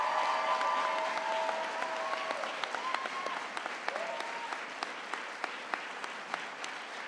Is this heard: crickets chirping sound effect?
no